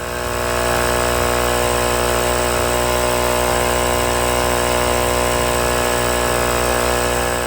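A GOOLOO A6 Gear portable 160 PSI air compressor runs steadily while inflating a car tire, a loud, continuous mechanical drone with a buzzing motor hum and no break from start to end.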